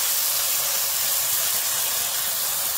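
Ground spice paste for chikni saag hits a hot pan with the greens, a loud, dense, continuous hiss of sizzling steam lasting a few seconds, with no voices.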